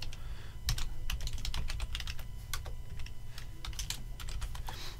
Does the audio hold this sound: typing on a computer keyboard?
yes